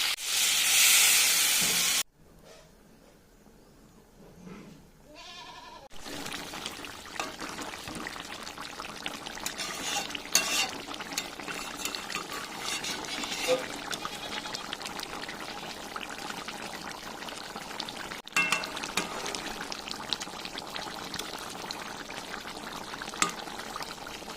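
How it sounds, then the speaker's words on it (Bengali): Water is poured into a pot of meat curry with potatoes cooking in oil, making a loud rushing splash for about two seconds. A quiet lull follows, then steady close simmering and bubbling sizzle. "এবার আমি দিয়ে দেবো জল"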